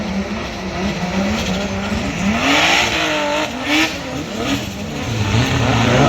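Race car engine roaring loudly and continuously as it drives a track in a superfinal race at Kehala, pitch rising and falling with revs and gear changes, with brief tire squeal and no talk.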